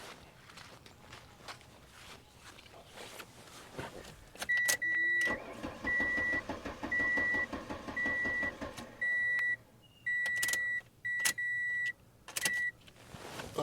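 A 1998 Mercury Tracer with poor battery connections cranks in repeated bursts without starting, each attempt cut off by pauses and joined by steady warning beeps, all close by in a quiet space.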